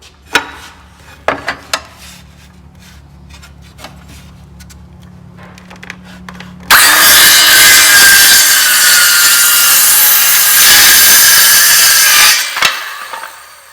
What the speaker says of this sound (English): we'll cut this piece here off next to be able to, square it up nice